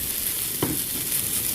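Grated carrots sizzling in a frying pan with green chilies, a steady close hiss broken by a single spatula scrape while being stirred.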